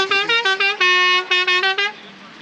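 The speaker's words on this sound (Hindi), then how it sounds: "11:45 बजे भी हॉर्न बजना शुरू हुए हैं" Vehicle horns honk in a rapid series of short toots, then one longer blast and more quick beeps, loud and close, from traffic waiting on the Karakoram Highway between Besham and Chilas.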